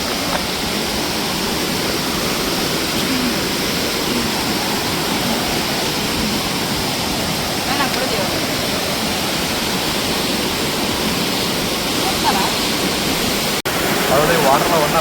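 Mattighatta waterfall roars close by as a steady, dense rush of falling water, loud and continuous throughout with no break.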